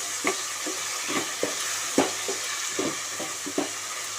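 Ginger garlic paste fries in a pan under a steady soft sizzle, with a spatula scraping and stirring in regular close strokes about every half second, no talk.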